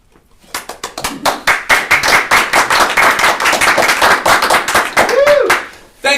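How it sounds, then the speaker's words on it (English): An audience claps and applauds through most of the stretch, a dense, steady wash of hand claps that rises quickly and holds. A brief whistle-like tone cuts in near the end. "Feel free to applaud whenever you want."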